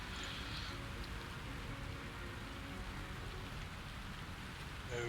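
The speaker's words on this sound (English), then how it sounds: "Uh-oh, it's raining." Steady rain falling in the factory-building video game Satisfactory, a dense, even hiss of drops on surfaces that holds unbroken and fairly loud throughout, with no talk over it.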